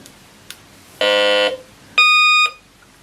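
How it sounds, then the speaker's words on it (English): A metal detector switching on gives two loud electronic tones in a row, first a harsh buzzing tone and then a cleaner, higher beep, each lasting about half a second, in a quiet space. "Well, get down the metal detector and do some looking. Well, turn this guy on."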